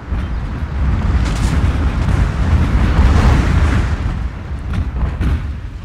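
Dense, continuous rumbling barrage of catapult-launched bomb explosions from a large battle in the Total War: Shogun 2 video game, booming and crackling loudly throughout with no pauses.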